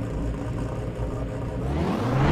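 Simulated car engine in Car Mechanic Simulator 2021, a steady mid-pitched hum that climbs in pitch and loudness toward the end as the revs build.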